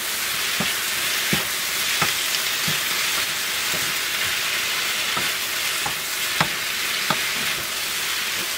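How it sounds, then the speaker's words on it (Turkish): Filling stir-fried with salt in a hot pan, a loud continuous sizzle with regular scraping knocks from stirring roughly every second, close and steady throughout. "Bir tatlı kaşığı tuz ekliyorum ve karıştırarak kavurmaya devam ediyorum."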